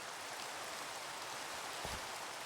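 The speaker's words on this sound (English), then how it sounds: "Too bad the rain just started." Steady rain hisses evenly and fairly quietly in a Minecraft-style Whimsicraft modpack world, a continuous wash of falling drops with one brief low thump and no talk.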